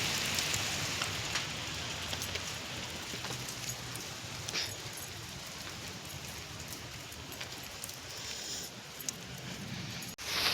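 Rain falls steadily, making a soft, continuous hiss with scattered faint drops. It is fairly quiet and heard alone, with no voices.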